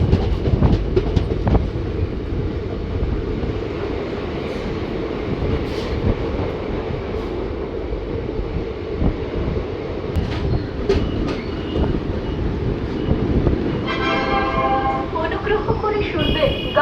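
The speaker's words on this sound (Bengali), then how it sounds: "ভোর 4:30-র সময় ট্রেন এসে পৌঁছালো তার লাস্ট হল্ট বিধাননগর।" The Gour Express (Malda Town to Sealdah) pulls into Bidhannagar Road before dawn, with loud close rumbling and clattering wheels, a horn sounding near the end, and a station announcement over the din.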